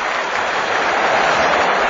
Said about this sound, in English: I can hear a ripple of applause there.